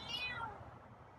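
Feral cat giving a single faint, high, falling meow at night, brief and soft against a quiet background.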